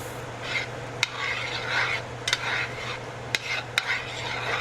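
Spoon stirring a pot of boudin stuffing for bell peppers, soft repeated scraping strokes with a few sharp metallic knocks against the pot over a low steady hum, no talking.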